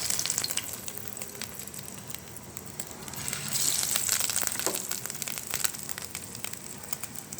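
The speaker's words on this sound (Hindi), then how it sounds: "अच्छे से अब हम इसे फ्राई करते हैं। तो ये देखिए ऑयल हमारा गर्म हो चुका है अच्छे से।" Potato and chicken kebabs sizzle and crackle in hot oil, a continuous close frying hiss with bursts of sharper popping and a brief swell midway, no talking.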